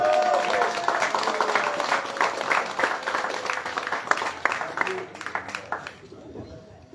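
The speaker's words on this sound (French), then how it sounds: "Sur vos applaudissements, s'il vous plaît." Applause from a crowd at an outdoor conference on Place des Caraïbes in Le Carbet, welcoming a speaker, a dense steady patter of many hands that fades toward the end, with a voice over it.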